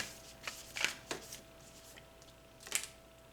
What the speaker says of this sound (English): I'm going to pull one of these cards.